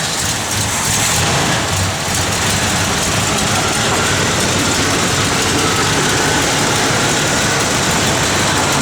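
A 1971 Oldsmobile Cutlass Convertible engine idles with a steady, loud rumble and hiss that runs unchanged throughout, with no talking.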